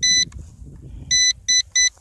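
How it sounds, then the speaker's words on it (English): An FQ777 F8 4K 2-axis gimbal GPS drone gives short electronic beeps as its gimbal is moved: one beep, a pause over low rumble, then three quick beeps in a row, close and clear. "there is that beep every time you play around with the gimbal"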